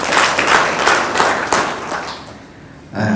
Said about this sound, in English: Let's give him a big clap, please.